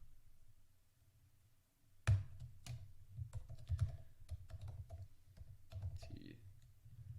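Code typed quickly on a computer keyboard: soft, close clicks of keys come in irregular bursts after a brief near-silent pause, quiet throughout with no talking.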